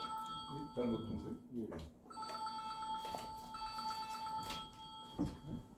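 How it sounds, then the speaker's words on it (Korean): A telephone rings in a lecture hall with a steady repeating electronic trill that runs through most of the stretch, while people talk over it nearby. "여기 전화가 왔어요. 전화가."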